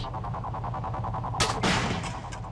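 Lara's new weapon in Tomb Raider 5 fires two sharp shots in quick succession over a steady low rhythmic background hum of game ambience.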